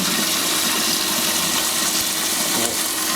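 A powerful pump recirculates 85-degree hot water through closed brewery boiler pipes, giving a steady, loud rushing gush of water that holds constant from start to finish with no talk.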